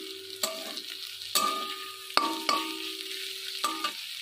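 Hilsa fish head and water lily stems stirred in a pan over a steady sizzle, with a few sharp utensil knocks against the pan spaced irregularly, close and clear.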